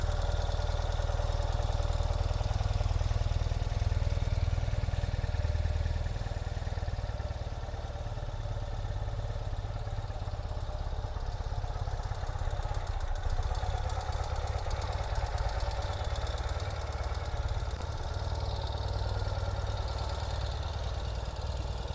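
A 2021 Ural Gear Up sidecar motorcycle engine idles steadily in neutral just after starting, a low, even mechanical rumble that is close and continuous, with no talking over it.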